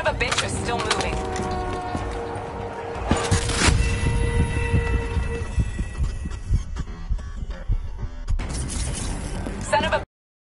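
A maglev train rushes past in the Call of Duty Black Ops 3 campaign with a loud, continuous rumbling roar layered with metallic whines and clanks. The sound stays dense and close for about ten seconds, then cuts off abruptly.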